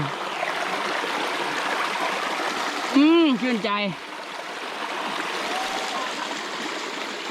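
A forest stream in Taksin Maharat National Park, Tak, Thailand, rushes steadily and close by in a constant watery hiss. A man briefly murmurs appreciatively midway through.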